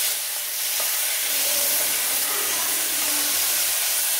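Shallots sauté in a pan for a quick chicken curry, giving a loud, steady sizzle and hiss with faint stirring scrapes near the mic and no speech.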